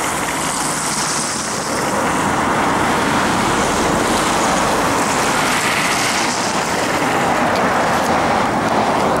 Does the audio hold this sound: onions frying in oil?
no